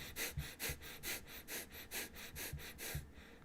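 Close, quiet rhythmic exhalations during a breathing exercise, about a dozen sharp breaths pushed out in a steady fast pulse, with no talking.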